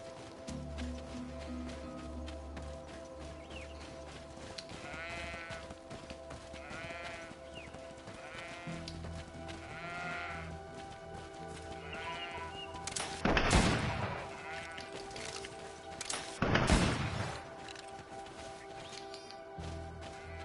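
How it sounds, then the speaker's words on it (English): Sheep bleat a few times in the GreedFall video game, with faint repeated calls over a steady ambient music bed and two louder, sharper bursts near the end. "where are those damn sheep I was hearing?"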